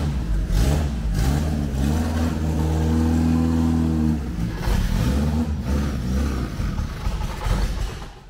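A Fiat 147 engine fitted in a Fiat Fiorino runs with no exhaust, a loud, raw, rasping drone with strong low harmonics that rises in a rev and settles back, close and continuous with no talk.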